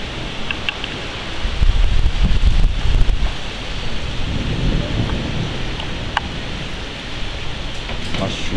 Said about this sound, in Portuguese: A chuva chegou.